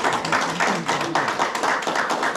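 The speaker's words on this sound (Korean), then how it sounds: "문선희 원장님께 다시 한번 박수 부탁드립니다" Seminar attendees clap at an academic exchange gathering, a moderately close, uneven patter of hands with rhythmic bursts rising and falling over a couple of seconds.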